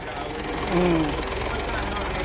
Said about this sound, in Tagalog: Tsaka tirin nyo yung tunog ng makina niyan.